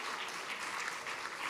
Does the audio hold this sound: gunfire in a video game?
no